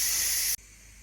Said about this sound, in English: let's turn off the Ninja Foodi and release the pressure. And the last bit of pressure's just going now